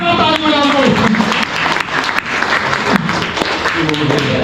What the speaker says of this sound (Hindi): जोरदार ताली बजाओ कोई।